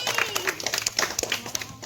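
Children in a classroom clap together in a short, lively burst of close, ragged hand claps lasting under two seconds, with no voices over it.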